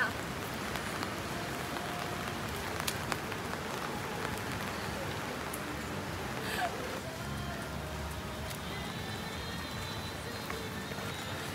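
Steady rain falls on surfaces outdoors, a dense continuous patter throughout with occasional sharper drops and knocks, while people talk intermittently over it.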